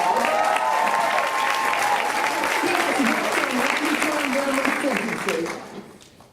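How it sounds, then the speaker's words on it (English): Sustained audience applause in a room for Congressman Bobby Scott, dense and steady for about five seconds, with voices and cheering mixed in, before fading out near the end. "I want you to give him a big round of applause."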